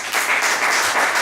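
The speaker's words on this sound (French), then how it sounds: "Nolwenn May, que vous pouvez applaudir" An audience at a boxing gala weigh-in in Le Creusot breaks into dense, steady applause for a boxer, a loud wash of many hands with no talk over it.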